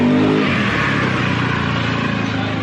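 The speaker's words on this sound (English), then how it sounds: "Motorbikes, right? All the time." Motorbikes passing on a road in Thailand, a continuous loud engine roar that swells and drones steadily, close by, with no one talking over it.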